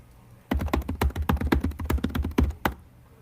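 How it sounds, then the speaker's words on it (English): Loud, hard typing on a computer keyboard, a rapid run of sharp clacking keystrokes for about two seconds with a couple of heavier final taps, close and clear over a quiet room. "are you angry at your keyboard there?"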